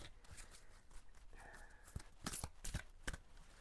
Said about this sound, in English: I'm making a bit of a mess of this shuffling.